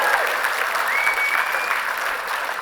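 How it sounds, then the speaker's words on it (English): A gala audience at a Luke's Wings heroes event applauds in a dense, steady wash of clapping that holds at an even level throughout, with a faint tonal whistle or voice riding above it. "Please give them a round of applause"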